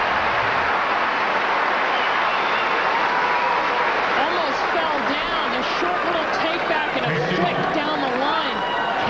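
Crowd applause during the 2005 Australian Open women's quarterfinal between Lindsay Davenport and Alicia Molik, a steady roar of clapping and cheering that fills the whole stretch while a commentator talks over it.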